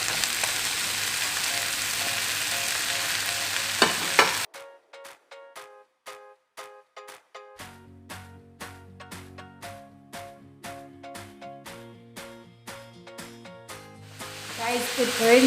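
Sliced mushrooms sizzle in a hot pan for creamy chicken and shrimp pasta, a loud hiss at first that drops away and gives way to a rhythmic series of sharp clicks and taps.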